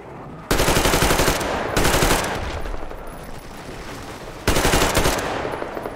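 Loud machine gun fire in the video game Metro Exodus, three sustained bursts of rapid automatic shots close up, separated by short pauses filled with ringing echo.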